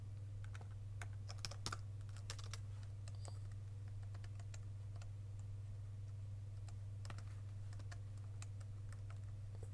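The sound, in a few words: typing on a computer keyboard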